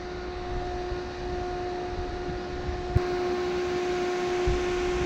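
A Dometic RTX 2000 12V DC rooftop air conditioner at full blast: steady, loud whooshing fan noise with a constant hum and tonal whine, rising slightly in intensity partway through, with no voices.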